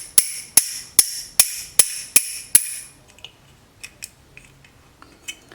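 Seven sharp metallic hammer strikes ring out at a steady beat on a drill's grinder attachment, loud and close, followed by a few fainter scattered clinks and taps.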